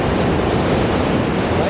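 Ocean waves break on a beach with a dense, loud, continuous roar of surf, close by and without a pause.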